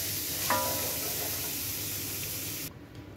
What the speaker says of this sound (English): I'm going to put my garlic now.